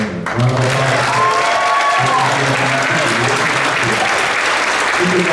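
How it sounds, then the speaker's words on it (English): Loud, dense applause from a school concert audience honouring an eighth-grade percussion student with a placing, with some cheering and voices mixed into the continuous clapping. "Round of applause."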